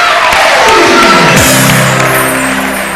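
A television studio audience on a Ramadan quiz show breaks into loud applause and cheering, joined by a falling swoosh effect, then eases off slightly toward the end.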